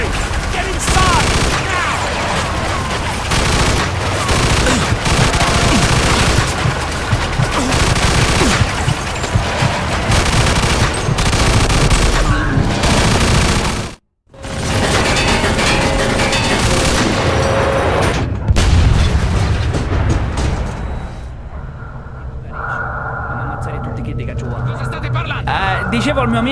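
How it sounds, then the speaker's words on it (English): Heavy artillery blasts and sustained gunfire in the video game Mafia II, a loud continuous barrage of shots and booms with shouting voices over it, ending in quieter rumbling. "we got artillery!"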